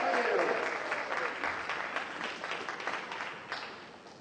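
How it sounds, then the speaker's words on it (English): Audience applause for a volunteer named Holly at Shaun Anthony's magic show, a dense burst of clapping that is loudest at the start and slowly thins, with speech-like sound mixed in. "Give Holly a massive round of applause"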